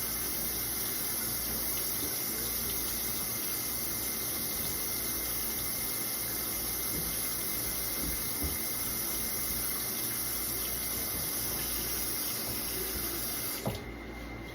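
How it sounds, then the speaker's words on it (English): A steady, loud stream of warm water runs from a sink tap while surgical instruments are rinsed, continuing unbroken for about fourteen seconds before it cuts off abruptly near the end, with no voices. "Step 1 in cleaning, rinse under cold or warm water to remove gross debris."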